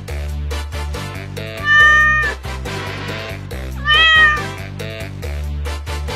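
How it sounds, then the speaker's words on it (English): A cat meows loudly in two drawn-out, rising-and-falling cries set over a steady, repeating musical background. "It's a cat"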